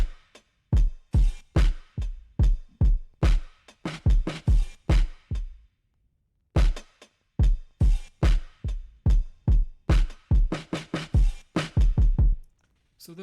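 Programmed hip-hop drum pattern with kick, snare and hi-hats, swung groove, punchy and up front, with a brief drop-out in the middle before the beat returns; no talking.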